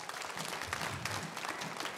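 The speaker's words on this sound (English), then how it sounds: "Would you give her a round of applause?" Congregation at a Sunday evening church service applauding, steady clapping from many hands that carries through the whole short stretch without talk.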